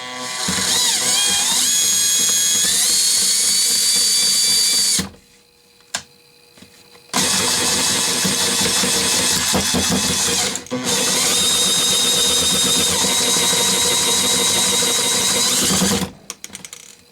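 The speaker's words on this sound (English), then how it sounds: "I mean, it's a paint can shaker." A Shake Right spray paint can shaker runs with a loud whirring, rattling mechanical drone, cuts out for about two seconds, then resumes and runs until it stops near the end.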